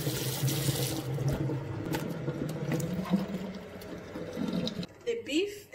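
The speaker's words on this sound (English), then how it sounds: "I start with washing my meat and putting in a clean pot" Tap water runs into a sink while beef and tripe are washed for Nigerian egusi soup, a steady close splashing hiss that stops near the end, followed by a few handling sounds.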